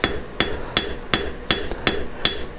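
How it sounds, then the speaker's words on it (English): A forging hammer flattens silver wire on an anvil, striking seven sharp, ringing metallic blows at an even pace, close and loud with no voices over them. "I'm going to be using the anvil, and we'll just hammer the wire flat"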